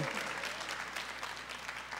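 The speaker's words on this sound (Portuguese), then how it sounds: "Uma salva de palmas para Jesus." A church congregation applauds in dense, continuous clapping that holds at a fairly even level for the whole stretch, with no voices on top.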